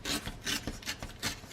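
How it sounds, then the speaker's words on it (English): A die-cut crochet trim piece being roughened by hand, giving four rhythmic scraping, rasping strokes about a third of a second apart, close and fairly quiet with no talk. "let me make it a little bit rougher"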